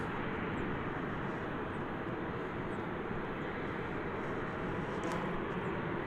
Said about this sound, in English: American Flight 1229 arriving from Cleveland